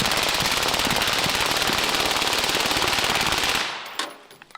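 Rapid, loud automatic gunfire from a modified weapon in a video game, a continuous burst that cuts off near the end, leaving a few scattered clanks and a brief echoing tail.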